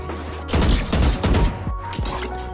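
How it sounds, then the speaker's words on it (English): A Kayo one-way flashbang detonates in Valorant on the Ascent map, a run of loud, close bursts and crashing impacts, with several sharp hits spaced across about two seconds and nobody speaking. "Flashbang!"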